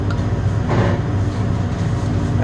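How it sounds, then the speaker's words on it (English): Mechanically failing compressor running with a loud, steady low rumbling drone and droning hum, heard close and continuous throughout. "So it has a bad compressor."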